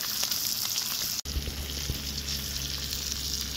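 Rainbow trout fries in a cast iron pan with a steady close sizzle and crackle, briefly interrupted by a sharp clunk before the frying continues evenly.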